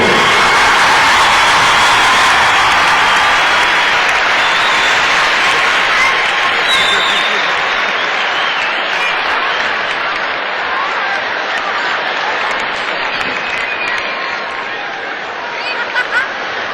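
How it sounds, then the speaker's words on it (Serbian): A large arena crowd at a tennis exhibition applauds Maria Sharapova, a loud, dense roar of clapping and cheering that holds steady and slowly tapers, with some voices mixed in. "Velikim aplauzom Čarapovu."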